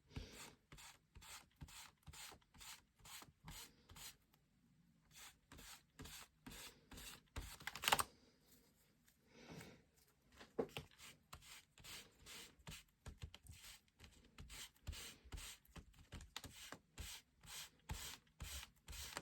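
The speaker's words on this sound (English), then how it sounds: "I'm just gently rubbing it like that, but a lot of dirt on there." Repeated soft rubbing strokes over a 1967 original paper concert poster, brisk back-and-forth swipes in quick bursts with brief pauses, close and quiet, lifting dirt from the surface without any talk.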